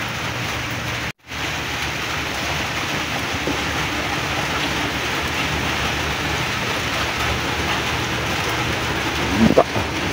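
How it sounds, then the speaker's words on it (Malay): Heavy, steady rain pours down at midnight during a fishing trip on a raft, a dense continuous hiss with no letup and only a brief dropout near the start. "Tengok hujan."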